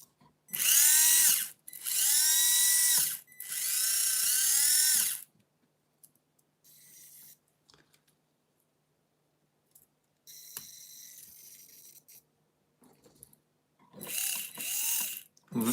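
A tightly meshed pinion gear on an RC car whines loudly in three long bursts, each rising and falling in pitch, followed by fainter mechanical whirring and a final sharp burst.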